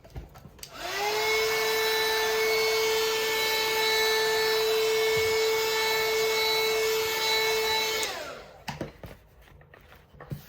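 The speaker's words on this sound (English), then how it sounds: "And then hit it with the heat gun." A heat gun blows hot air across an art journal page in a 6x6 journal, a loud steady roaring whoosh with a tonal hum that starts near the beginning, holds for about seven seconds, then cuts off, followed by light handling sounds.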